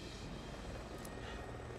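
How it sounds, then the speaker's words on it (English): Helicopter in the Resident Evil 6 video game, a continuous dense rotor and engine roar, steady and fairly loud with no break. "Go on, shoot the helicopter, Leon."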